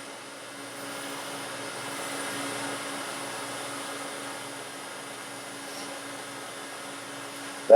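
A wood lathe spins a twig pot at around 2,000 rpm, giving a steady, fairly quiet whirring hum that barely varies in level, with no talking.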